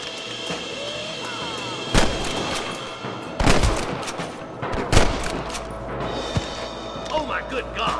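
Scattered gunshots in Red Dead Redemption ring out at irregular intervals, a few sharp cracks standing out over a busy backdrop of distant fire, rumble and muffled voices.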